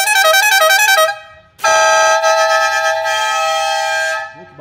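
A loud three-trumpet car horn on a Fiat Strada blares, first alternating between pitches in a rapid two-note pattern, then switching to a continuous chord that holds for several seconds.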